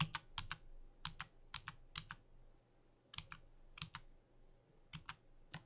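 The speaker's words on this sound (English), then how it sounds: "I press S on the keyboard" Keys on a computer keyboard are pressed in quick clusters of two or three clicks with short pauses between, close and quiet, with no talking.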